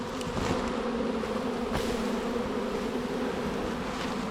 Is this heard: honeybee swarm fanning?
yes